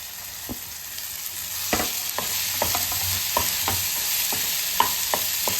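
Finely chopped mushrooms, about 200 grams, sizzle in a hot pan for a mushroom dosa filling, with a steady frying hiss and repeated sharp scrapes and clinks of a spatula stirring, close up and without talk.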